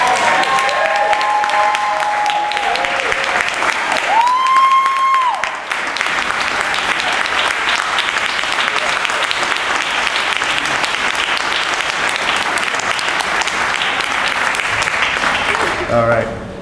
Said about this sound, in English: honor him very quickly with a round of applause